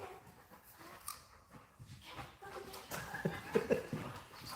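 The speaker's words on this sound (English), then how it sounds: "Stray dog across the street." A stray dog across the street whimpers and yelps faintly at a distance, short clustered calls toward the end over quiet outdoor noise.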